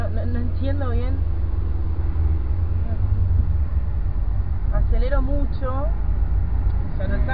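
A Galaxy car's engine drones steadily under continuous conversation inside the cabin while being driven hard on a city avenue, with no distinct rise in pitch standing out.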